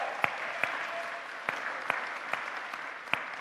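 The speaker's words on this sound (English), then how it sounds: "give him another round of applause" A town hall audience applauds the councilman in a steady, moderate round of clapping, sustained throughout, with a few sharper individual claps standing out.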